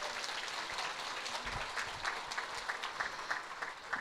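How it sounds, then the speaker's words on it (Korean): An audience at a New Jersey business success academy event applauds in a fairly quiet, steady patter of many hands clapping, heard from a distance. "You're sitting here clapping right now"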